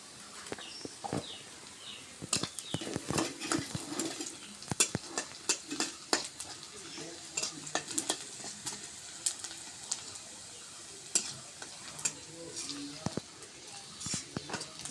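Cumin seeds sizzle and crackle in hot oil in a pan, with scattered sharp pops and stirring scrapes over a steady frying hiss, close and moderately quiet, with a little background talk.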